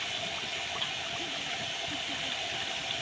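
Boiling hot water poured into a pot of beef curry, a steady close gushing splash that runs unbroken for the whole stretch.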